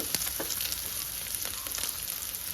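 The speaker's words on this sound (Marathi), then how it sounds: "चांगलं भाजून घेऊया कांदा भाजलेला आहे" Chopped onion roasting in a pan for rava upma, a steady, close sizzle of frying with brief crackling spurts and light stirring.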